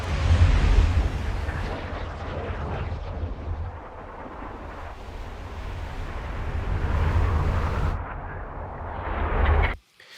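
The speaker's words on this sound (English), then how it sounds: "Then we needed to add some airy sounds," A trebuchet projectile flies through the air in Kingdom Come: Deliverance 2 with a loud, sustained rushing whoosh. The airy roar swells and eases over several seconds, then cuts off abruptly at the end.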